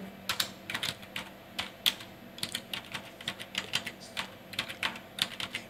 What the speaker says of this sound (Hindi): आपको कीबोर्ड से इंटर बटन प्रेस करना है